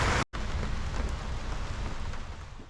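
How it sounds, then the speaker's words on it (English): Heavy rain pours steadily in Key West while a strong wind gusts over 20 knots, a dense, loud, unbroken wash that cuts out for a moment near the start. "So the wind's picked up, could be over 20 knots now, and the rain has also picked up."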